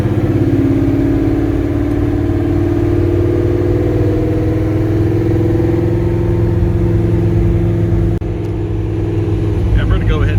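Ford GT40 Superformance replica driving on city streets, engine note rising and falling steadily through upshifts and downshifts, loud and close from inside the car, with brief talk near the end.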